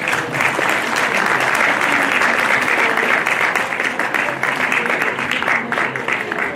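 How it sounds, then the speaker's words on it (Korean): Graduates clap together at a Korean high school graduation ceremony as flowers are presented, loud, dense applause filling the hall and continuing evenly for several seconds, with faint voices beneath. "자, 전체 졸업생들 박수."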